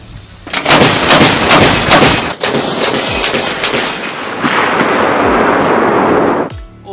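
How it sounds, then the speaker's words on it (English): A Bofors 40 mm anti-aircraft autocannon firing fully automatic: a loud, continuous string of booming shots lasting several seconds, rapid and close, rolling into echo as it stops. "Okay, so now we're going to see what this gun can really do. We're going fully automatic."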